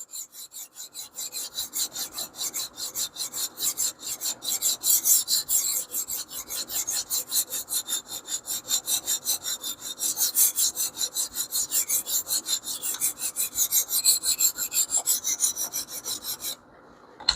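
A small paring knife drawn across a sharpening surface in a long run of even, rhythmic rasping strokes, close and steady with no voices.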